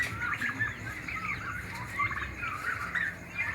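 Turkeys on a turkey farm gobble in rapid, warbling bursts, several birds calling over one another at moderate distance with a low background murmur.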